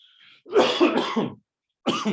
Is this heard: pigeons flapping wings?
no